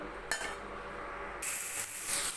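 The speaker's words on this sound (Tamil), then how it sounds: "தக்காளி வெங்காயமெல்லாம் நல்லா வதங்கணும் வதங்கட்டும் கொஞ்ச நேரம் அப்படியே" Tomatoes and onions sauté in a pan for a cabbage chutney, a soft sizzle with a brief scrape of a utensil early and a louder, brighter hiss in the second half, no speech.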